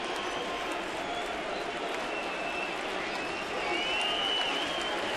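A baseball crowd on its feet in a Minnesota at Toronto game, a dense, steady roar of cheering and clapping that swells slightly near the end.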